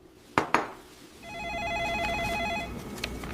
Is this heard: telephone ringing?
yes